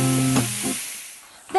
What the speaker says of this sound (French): Et toujours avec une poêle bien chaude, nous allons y mettre nos échalotes ciselées.